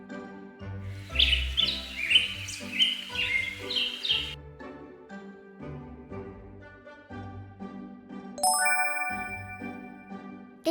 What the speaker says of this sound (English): It's a little bird.